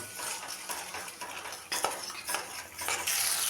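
A spoon scrapes and stirs a paste of cashew, sesame, paneer and milk in a hot pan, with a faint sizzle under the repeated clinks and scrapes, close and steady.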